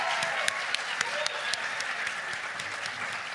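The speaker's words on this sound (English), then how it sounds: "let's offer a round of applause for all the students here today in recognition of their hard work and" An audience applauds student poetry performers at a state recitation event, a steady wash of many hands clapping together, moderately loud and sustained throughout without a break.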